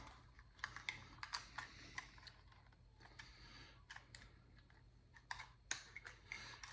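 Plastic arms of a TizzyToy BL01 drone being folded out by hand, a quiet series of small clicks and snaps in irregular bursts, close and alone without talk.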